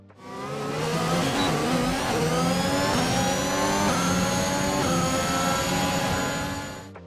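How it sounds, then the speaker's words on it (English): An F1 car in the F1 video game drives past with a loud, continuous engine roar and a thin high turbocharger whistle riding above it, holding steady for several seconds before easing off. "The high-pitched whistling sound you can hear while driving comes from this component."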